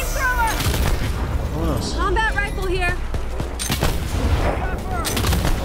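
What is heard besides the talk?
gunfire in a video game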